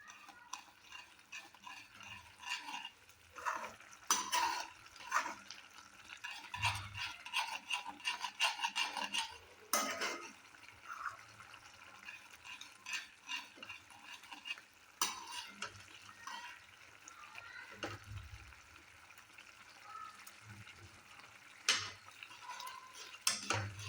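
A spoon stirs thick masoor curry in a pot with repeated scraping and rasping strokes and a faint sizzle underneath, close and uneven in rhythm, with no voices.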